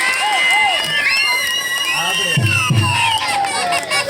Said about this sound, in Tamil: ஆண்கள்லாம் விசில் அடிச்சு ஆரவாரம் பண்ணுங்க, பெண்கள்லாம் நல்லா கைதட்டுங்க.